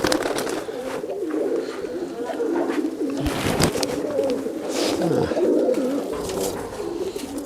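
A flock of local Giribaz pigeons in Rajshahi fills the air with continuous low, overlapping cooing, loud and close, with rustling and shuffling movement throughout.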